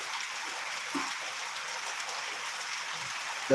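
Steady, soft rain falls with an even hiss throughout, with a faint knock near the start and a bump at the very end.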